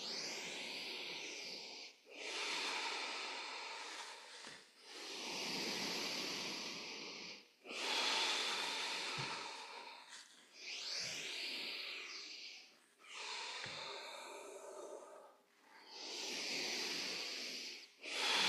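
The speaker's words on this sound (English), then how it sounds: "breathing in" Slow, deep breaths during yoga practice, each a long airy inhale or exhale lasting a couple of seconds, repeated about seven times with brief pauses between, close and clear with no talking.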